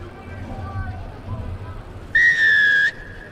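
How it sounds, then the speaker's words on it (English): A referee's whistle gives one loud, sustained blast at a youth rugby match, sharp and near, cutting through low crowd murmur and a commentator's voice. "Loud blast of the whistle."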